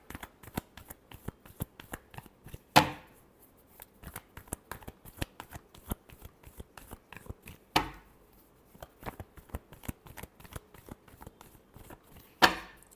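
Tarot cards are shuffled by hand in a steady run of soft, rapid riffles and taps, with three sharper slaps spaced several seconds apart, close and quiet, with no talking.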